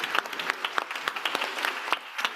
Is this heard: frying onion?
no